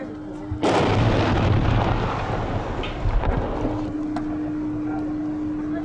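A car bomb goes off: a loud, sudden blast erupts after a brief low hum, followed by a long rumbling roar and crackling debris that slowly settles, with a steady drone underneath.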